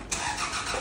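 A car engine catches and starts in a short burst, a sudden close mechanical turnover that settles into a running hum, heard alone without talk.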